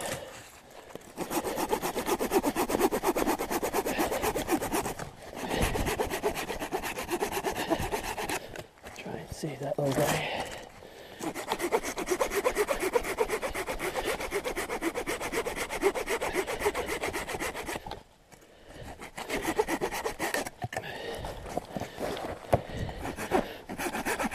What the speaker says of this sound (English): This is a Coghlan saw here. It's poplar here.